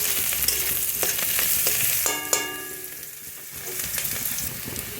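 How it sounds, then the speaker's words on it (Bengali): Whole spices and onion frying in a pan, a steady sizzle broken by a few clinks and scrapes of stirring, close and fairly loud. "এবার পেঁয়াজটার সঙ্গে ভেজে নিচ্ছি"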